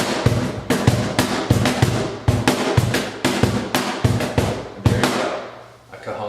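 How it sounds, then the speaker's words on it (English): Solo cajon played with a steady groove, a run of sharp, close slaps and deep thumps in quick rhythmic succession, ringing out at the end. "He's going to be playing the cajon,"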